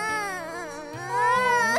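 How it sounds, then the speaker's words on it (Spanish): A cartoon character cries in a high, wavering, childlike wail that rises and grows louder toward the end, with no speech over it. "¿por qué estás llorando?"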